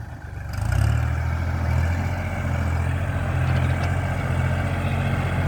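A heavy diesel Kubota L4018 tractor engine rumbles steadily and loudly, rising in effort as it pushes a load with its dozer blade, continuous throughout with no voices.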